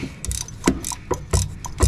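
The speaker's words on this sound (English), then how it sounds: "Just got to loosen these top transmission bolts." A ratchet works on the upper transmission bolts of a Pontiac LeMans during engine removal, giving irregular clicking bursts and metallic clanks with short pauses in between, close and fairly loud.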